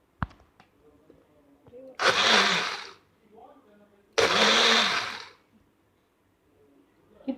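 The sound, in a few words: mixer grinder grinding popcorn chicken marinade ingredients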